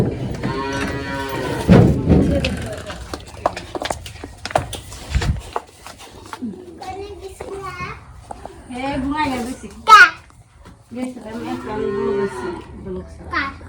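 Cows at a home moo a few times close by, the calls mixed in with children's voices and people talking around them.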